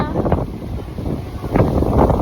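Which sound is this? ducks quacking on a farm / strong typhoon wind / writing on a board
strong typhoon wind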